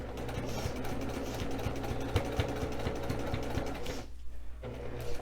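A sewing machine runs a steady, rapid mechanical stitching rhythm while sewing down the seam of a Valentine throw pillow, close and even, then stops briefly near the end before restarting.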